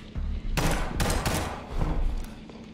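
Bursts of rapid gunfire in a noir cyberpunk 2D side-scrolling shooter game, several loud sharp volleys in quick succession with short gaps between them and no talk.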